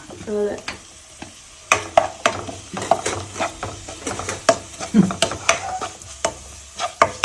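Shallots, onions, bird's eye chilies, turmeric and grated coconut fry in coconut oil on a hot pan, with soft sizzling under frequent close scraping and knocks of a spoon stirring against the metal, irregular and fairly loud.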